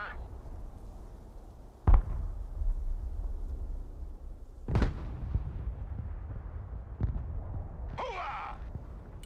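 Video game Broken Arrow artillery fire: several heavy booming impacts spaced a few seconds apart, with a low rumbling tail between them, followed by a brief radio-like chirp.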